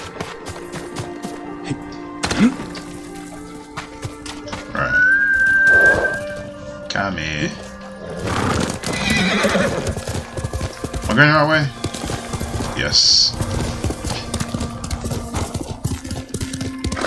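Horse hooves clip-clopping at a gallop in the video game Ghost of Tsushima, steady beats under game music and a person talking over much of it.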